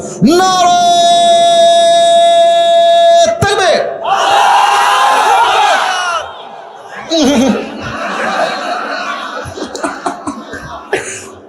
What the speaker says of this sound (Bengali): বিবাহিত ভাইরা তাকবীর দেন